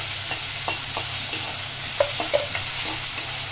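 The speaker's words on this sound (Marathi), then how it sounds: "कांदा हा आपल्याला छान लाल होईपर्यंत परतायचा आहे." Onion sizzles in a pan as it is stirred: a steady, close frying hiss with scattered light scrapes and clicks from the spoon, and no talking.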